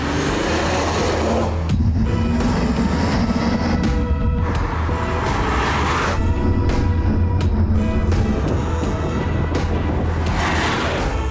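Infiniti Q60S with a 3.0 V6 engine, a sustained loud engine roar with rising and falling revs and several sharp shifts or bursts, heard alone without talk.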